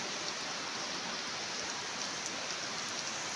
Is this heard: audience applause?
no